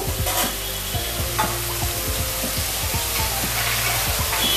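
Onions fry to brown in a pan with a loud continuous sizzle, and a spatula scrapes and stirs in a fairly regular rhythm throughout.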